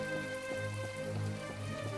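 Rain falling in the video game My Time at Portia, a soft continuous patter of drops over steady tonal game music, moderately quiet and even throughout.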